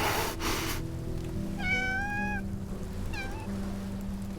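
A cartoon cat in the game Love and Deepspace meows twice, a longer clear meow then a shorter one, over a soft ambient music bed.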